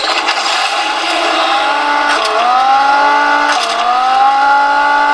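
Racing engines from the Asphalt 9 mobile game whine at high pitch, rising and shifting as the car accelerates through gears, steady and loud for several seconds with no talking.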